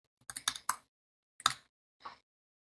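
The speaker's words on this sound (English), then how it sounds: "Keep on typing random stuff." Keys on a computer keyboard tapped during HTML and CSS coding, a quick burst of three close clicks, then a single click and a softer one after short pauses, crisp and near with no talk.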